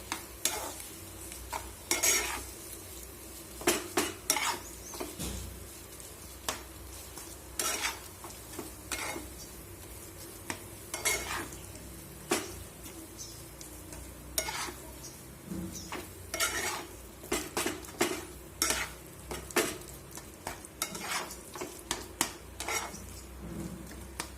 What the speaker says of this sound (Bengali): নুনটা দিয়ে এটা ভালো করে মিশিয়ে নেব।